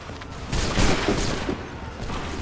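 Musket volley in Assassin's Creed 3, a dense rolling fusillade of many shots fired together, booming and crackling for about two seconds.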